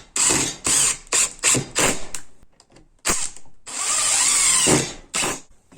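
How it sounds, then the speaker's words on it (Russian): Black self-tapping screws being driven into a wooden board with a power drill, heard as a series of short close whirring bursts with pauses between them, ending in a longer sustained run. "переворачиваем ее и закручиваем на 4 самореза"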